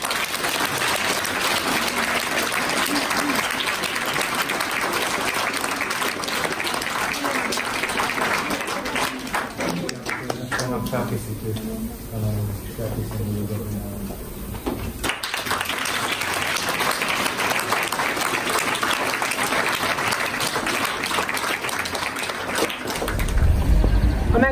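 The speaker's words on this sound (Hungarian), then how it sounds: "Kérlek nekik még egy tapsot." A village commemoration crowd claps at length for a children's performance, steady applause throughout with a softer dip in the middle before it swells again, and faint voices underneath.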